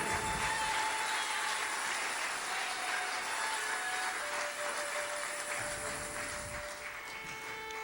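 A church congregation claps together during a worship service, a dense, steady wash of applause that runs throughout and fades slightly toward the end.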